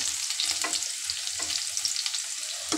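Chopped garlic frying in a pan at home while preparing restaurant-style chicken Manchurian, a steady close sizzle with soft stirring scrapes at intervals.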